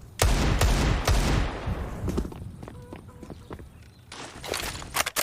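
Counter-Strike Desert Eagle fire rings out in several sharp, loud shots in quick bursts, followed by lighter footstep-like clicks and clatter, with a voice talking over parts of it.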